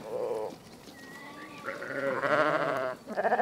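Sheep bleat several times, wavering nasal calls close by, one after another with short pauses, no talking.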